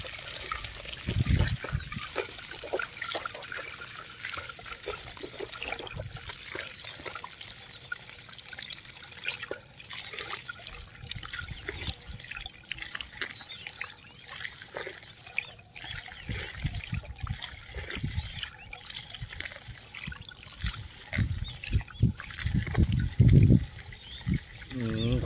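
Water trickles and splashes unevenly from a sink outlet used for face washing, close and fairly quiet, with a few louder gushes near the end and occasional talk over it.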